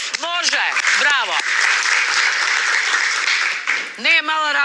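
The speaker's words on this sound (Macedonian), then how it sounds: "Ајде, аплауз." A live audience claps and applauds in a steady, dense burst lasting several seconds, with a speaking voice briefly before and after it.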